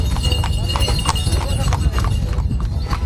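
Horses' hooves clip-clop in a steady rhythm at an equestrian gathering in Nafpaktos, heard beneath a continuous spoken narration.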